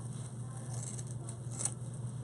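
Scissors snipping through deco mesh ribbon while making a poof wreath with ruffles, soft brief cutting and rustling sounds over a steady low hum, close and quiet.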